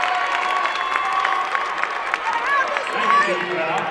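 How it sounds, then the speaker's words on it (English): Crowd applause and cheering in a gym during a girls' high school basketball quarterfinal, steady and fairly loud for several seconds with scattered whoops, while a commentator's voice talks over it. "Big round of applause"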